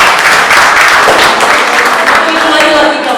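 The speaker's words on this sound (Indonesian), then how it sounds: "Kita berikan tepuk tangan bagi Tuhan" Loud congregational applause in a church service, dense continuous clapping close by with some voices mixed in throughout.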